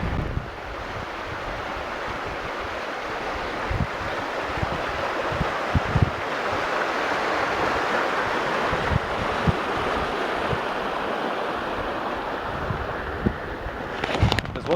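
Running water from streams flowing out of fields along the Camino de Santiago in Galicia makes a continuous broadband rush, mixed with wind noise and occasional bumps from the microphone.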